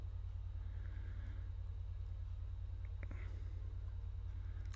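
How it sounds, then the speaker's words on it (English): A PlayStation 2 disc drive runs with a steady, low, droning whir, faint and unchanging throughout, with a few quiet game sounds scattered over it. "I can't believe how loud the whirring noise on that PlayStation 2 is"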